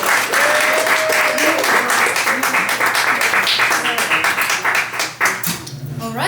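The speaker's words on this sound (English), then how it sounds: "another round of applause for Dawn" Audience applauding at a poetry reading, loud steady clapping that thins out at the end as voices begin.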